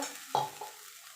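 Ginger sautés briefly in a pan for a vegetarian jackfruit curry, a soft sizzle with a single quick clink or scrape of a spoon as it is stirred, quiet and with no talking.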